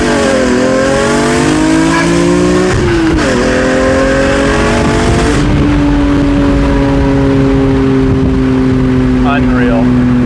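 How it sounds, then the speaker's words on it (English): A BMW E46 M3 fitted with a Valvetronic exhaust drives and revs loudly and close by. The engine tone climbs steadily, breaks at each gear change, then settles into a steady cruising drone. "So let's get some driving videos of this new Valvetronic setup"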